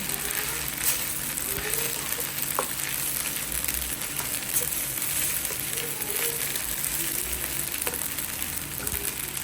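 Eggs fry in a pan with a steady, close crackling sizzle, a dense hiss that continues throughout with occasional faint clinks.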